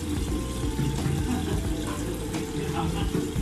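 Tap water runs steadily into a bathroom sink during face washing, a constant close rushing splash with faint talk in the background.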